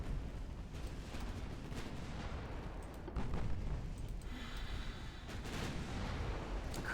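Naval guns firing at a battleship in the Ultimate Admiral Dreadnoughts game: a continuous dense rumble of distant artillery, with rolling booms layered over each other and a slight swell in loudness partway through, with no talking.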